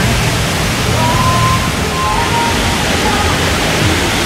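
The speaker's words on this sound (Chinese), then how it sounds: "我的后面就是樟宜机场的瀑布" At Changi Airport, the large indoor waterfall makes a steady, broadband rush of falling water, a constant roar close by with faint background murmur.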